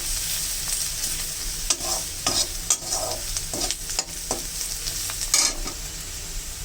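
Spices, turmeric, cumin and red chilli, sizzle in oil in a frying pan while being stirred, with a steady close frying hiss broken by repeated scraping strokes of the spoon.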